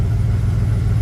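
A car engine idles steadily while its clutch is burnished after a drive shaft replacement on a 2015 vehicle with 6,000 hours, giving a loud, continuous low rumble with a faint pulsing throb and no talk.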